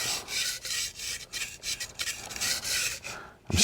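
The heel of a culinary knife is sharpened with repeated rhythmic strokes, a close, gritty rasping that pulses steadily, ending with a sharp clack.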